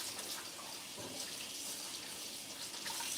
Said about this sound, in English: I just stand over here at this sink and just rinse that one off